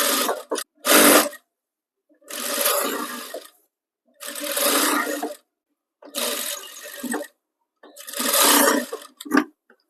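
A sewing machine stitches a blouse in short bursts, five or six whirring runs of about a second each separated by brief silences, close and clear with no talking.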